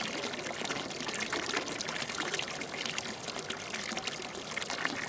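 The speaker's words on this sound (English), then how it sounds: "you can hear that fountain like all around your head" A steady wash of splashing fountain water, played back through earbuds, pours and trickles continuously at low volume with no break or voice.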